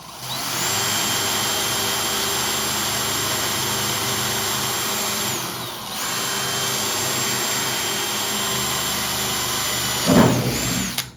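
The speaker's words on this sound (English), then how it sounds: "Now that I have those holes drilled out, I use the little 1/8 inch drill bit." Steady high-pitched whine of a power drill boring out spot welds in the metal body of a 1957 Karmann Ghia, running continuously with a brief dip midway, then a short clunk near the end.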